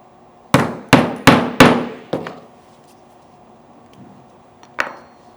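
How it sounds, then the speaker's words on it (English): A rawhide mallet strikes a tubular rivet through leather with four sharp, evenly spaced knocks close up, then a softer fifth blow, and after a pause one more single tap. "Use our rawhide mallet."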